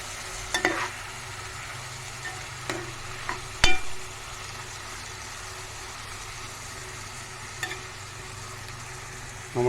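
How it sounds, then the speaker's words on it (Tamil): Chopped chicken frankfurter sautés in hot oil with a steady, close sizzle, broken by a few sharp stirring knocks and clatters against the pan; a low hum runs underneath throughout. "அதோட நம்ம நறுக்கி வச்ச சிக்கன் ஃப்ராங்கை போடணும். அதையும் நல்லா வதக்கணும். இந்த எண்ணெயிலே வதங்கணும்."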